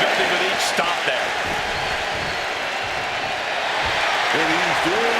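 Crowd noise fills a WWE 2K26 wrestling match, a steady roar of cheering and applause that stays loud throughout, with a commentator talking over it.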